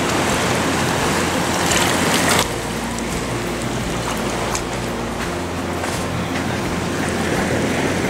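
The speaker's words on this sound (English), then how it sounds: "Whoa, look at that wave coming." Ocean waves wash and break onto a black sand beach in Hawaii, a steady loud roar of surf and hiss with a slight drop in intensity partway through, no talking.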